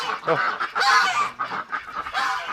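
Ducks on a farm honk and call loudly in a close, overlapping run of harsh, nasal cries that rise and fall with short gaps.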